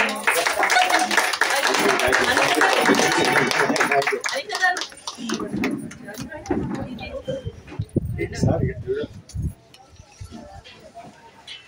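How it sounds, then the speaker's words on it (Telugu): Applause from a group clapping for several seconds at a gardening club meet, then thinning out as voices and scattered handling noises take over. "Claps claps claps."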